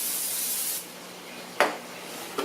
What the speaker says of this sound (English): So we spray it with a cooking spray.